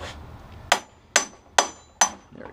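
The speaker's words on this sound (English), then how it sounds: "you've got to hit it with a hammer quite a few times to loosen these things up" Four sharp metallic hammer strikes on a handheld impact driver to loosen stuck parts, evenly spaced with bright ringing attacks and quick decay, close up with no talking.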